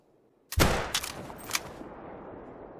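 A rifle shot fired at a bear in theHunter: Call of the Wild cracks out once, loud and sharp, then rolls into a long fading echo, with no talk over it.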